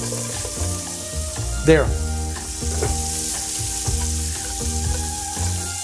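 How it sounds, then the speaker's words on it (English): Butter and onion frying in a hot pan, a steady crackling sizzle up close with stirring and scraping knocks, and a brief word spoken. "Now in that pan, butter, onion."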